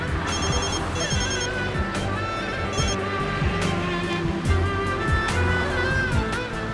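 A phone rings indoors with a repeating electronic ringtone pattern, steady and fairly loud throughout, with no talking.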